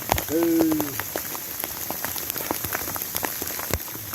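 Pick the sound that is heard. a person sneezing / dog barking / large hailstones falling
large hailstones falling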